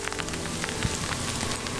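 Steady patter of rain and ice pellets striking surfaces during a winter storm on a farm, a dense continuous hiss with scattered sharper ticks, no talking.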